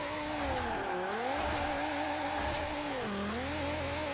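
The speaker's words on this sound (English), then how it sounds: "We can hear the engine now" A Formula Drift car's engine in Forza Horizon 4 drones continuously, its pitch rising and falling through repeated revs and lifts during drifting, with no voices.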